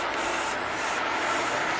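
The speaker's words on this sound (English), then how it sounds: "spraying all of these and letting them dry." Aerosol spray paint hissing onto square plates in a DIY project, a continuous broadband spray lasting under two seconds, close and steady.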